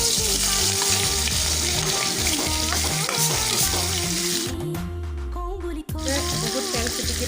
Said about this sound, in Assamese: অলপমান তেল দি দিছোঁ মাছ ফ্ৰাই কৰিবলৈ।